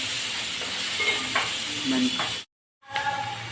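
Ridge gourd sautéing in a pan gives a steady sizzling hiss with a few soft stirring scrapes, cut off briefly by a moment of silence before resuming, and a voice speaks faintly over it.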